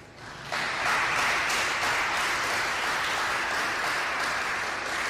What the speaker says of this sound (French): Nous vous demandons de l'applaudir à nouveau